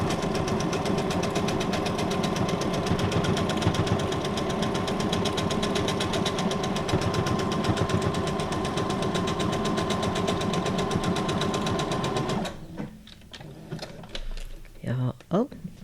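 Sewing machine stitching steadily on junk journal tags with thread, a loud continuous mechanical whir and rapid needle rhythm for about twelve seconds before stopping abruptly, followed by faint handling noises.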